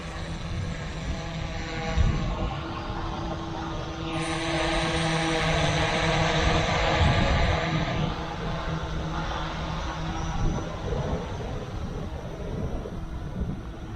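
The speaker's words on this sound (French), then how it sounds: "Je fais donc décoller mon drone." An XMRC M11 Turbo drone lifts off and flies, its propellers giving a loud, steady buzzing whine with a swelling pitch in the middle of the flight, heard alone without talk.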